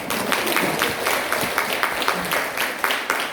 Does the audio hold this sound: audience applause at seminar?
yes